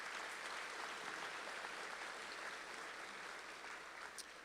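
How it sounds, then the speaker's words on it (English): Applause from a commencement ceremony audience for the stage party, a dense sustained crowd clapping that fills the room evenly and fades only slightly at the end. "One more round of applause,"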